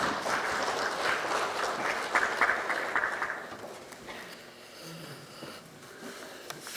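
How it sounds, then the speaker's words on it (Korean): Lawmakers at a Democratic Party caucus meeting applaud as a floor leader is introduced, a dense round of clapping that swells and then fades out halfway through, leaving quieter room noise. "박수 한 번 더 부탁드리겠습니다."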